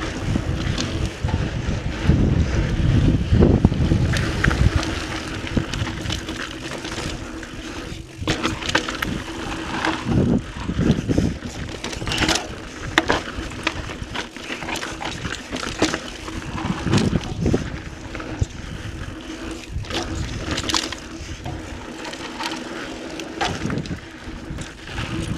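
Riding a 2017 Intense Recluse mountain bike through corners outdoors, a continuous rush of wind buffeting the microphone with rattling tyre and chassis noise and sharp bumps throughout, no talk.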